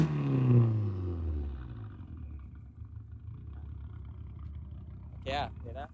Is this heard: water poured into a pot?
no